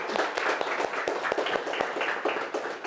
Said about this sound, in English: Shall we give a big round of applause to Shanique?